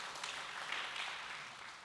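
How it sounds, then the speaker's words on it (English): A civic audience at an Asian and Pacific Islander American Heritage Month celebration gives a soft round of applause, faint and fairly distant, swelling briefly then tapering off without speech. "So let's give her another big round of applause."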